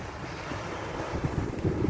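Strong wind buffeting the microphone at a coastal rock formation in Pangil, Ilocos Norte, with ocean waves surging as a steady, broadband roar close by.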